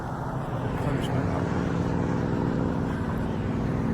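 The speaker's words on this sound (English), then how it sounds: "Lots of traffic noise." Steady road traffic noise carries up to a Pacific Crest Trail hiking path below a mountain pass, a continuous broadband roar of passing vehicles with no pauses, moderately loud and alone.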